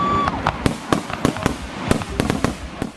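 Fireworks at a small-town July 4th festival in Chile, a rapid series of loud cracking bangs and pops at irregular intervals, close and sharp against a faint background.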